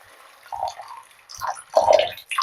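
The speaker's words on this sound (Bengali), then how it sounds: "তো আমি জল দিয়ে দিচ্ছি পরিমাণ মতো" Water is poured into a pan of tomato and Maggi masala for red Maggi noodles, in a few uneven gurgling splashes that get louder toward the end.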